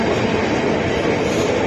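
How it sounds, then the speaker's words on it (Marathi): Mumbai local slow train to Belapur rolling into a station, a loud continuous rumble and clatter of wheels on rails with faint squealing. "ही आपली बेलापूर जाणारी गाडी आलेली आहे"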